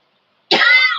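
One short, dry cough after a spell of silence, close to the microphone and alone, from a person whose throat is irritated by talking.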